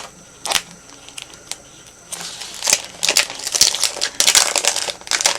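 A Dollar Tree sticker being peeled off its backing sheet, close and crisp, with scattered crinkling and papery rustles that grow busier and louder in the second half; no voice.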